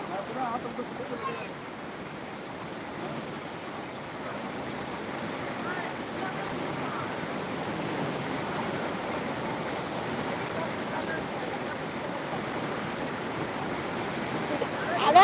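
A village river swollen into flood after rain rushes past in a continuous, even roar of moving water that holds steady and grows slightly louder throughout.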